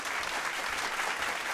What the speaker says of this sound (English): I feel like the clapping is very loud.